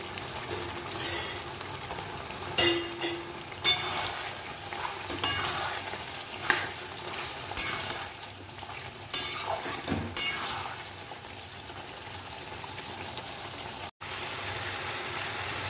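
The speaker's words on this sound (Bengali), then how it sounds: "এবার এটাকে ভালো করে নাড়তে হবে।" Chicken masala with fried potatoes is stirred in a frying pan: a spoon scrapes and clatters in irregular bursts over a steady, close sizzle, with a brief gap near the end.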